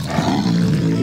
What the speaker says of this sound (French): Habitués à la présence de Rémi, ces tigres prennent leurs aises.